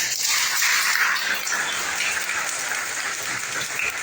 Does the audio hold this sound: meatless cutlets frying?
no